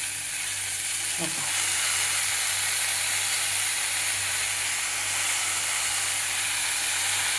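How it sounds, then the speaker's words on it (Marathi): Dill greens go into hot oil with chili and garlic, a loud steady sizzle and hiss filling the pan, with a brief clatter early on as they drop in. "शेपूची भाजी आपण टाकून घेऊया, म्हणजे अशी खरपूस भाजल्या की छान लागते"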